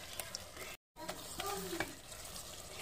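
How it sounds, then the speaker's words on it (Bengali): Chili chicken is stirred in a pan after a splash of cornflour slurry goes in, giving soft scraping and light sizzling strokes, close and fairly quiet, with a brief dropout near the start. "এবারে কর্নফ্লাওয়ার গোলা জল একটুখানি দিয়ে দিলাম, দিয়ে এটাকে আবার ভালো করে একটু নাড়াচাড়া করে নেব।"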